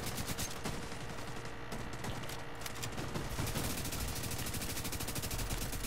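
Constant automatic gunfire fills a Tom Clancy's The Division 2 Conflict match on PS4, with dense, overlapping rapid shots that stay loud throughout and no pause.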